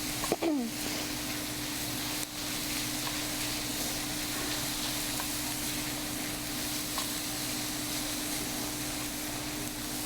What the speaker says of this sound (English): And that's just gonna tenderize the onion.